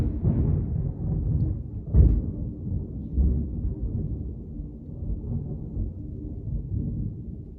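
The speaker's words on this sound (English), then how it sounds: "Why is it thundering so hard?" Heavy thunder rolls and rumbles close overhead, with sharper cracks near the start and a continuous deep grumble that slowly fades.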